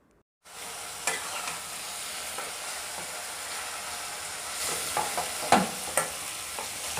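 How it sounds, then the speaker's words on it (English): A spice mixture for Bengali mutton curry frying in oil over a high flame, a steady close hiss and sizzle that starts abruptly, with occasional spatters and stirring scrapes. "This will be cooked until it starts releasing the oil from the mix."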